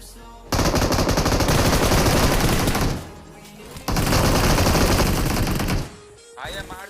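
Loud sustained automatic gunfire in PUBG on the Erangel map, two long bursts of rapid shots separated by a short pause, close and dominant, with faint talk at the end.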